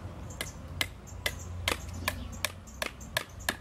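Sharp, regular knocks of a machete chopping into wood, about nine crisp strikes spaced roughly half a second apart, close and moderately quiet over a low background rumble.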